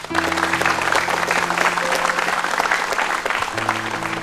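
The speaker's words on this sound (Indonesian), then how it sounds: "Kasih tepuk tangan dulu Bapak Ibu." Sustained audience applause at an Indonesian motivational talk show, a dense, even wash of clapping from a large crowd over a low background hum.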